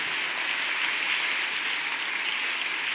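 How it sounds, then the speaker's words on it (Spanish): Sustained applause from a church congregation during a sermon, a steady, even wash of many hands clapping together at moderate loudness with no pauses, no talk audible over it. "Dele un aplauso a ese Dios todopoderoso."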